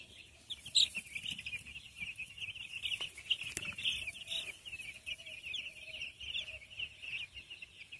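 Young broiler chicks on a poultry farm chirp and peep continuously in a dense, steady chorus, with occasional louder cheeps standing out, at low overall level and without speech.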